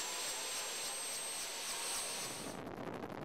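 Philippine Air Force helicopter on a flight from Lipa, Batangas, its steady turbine whine and broadband rotor roar loud and constant with no talk, the tone shifting near the end.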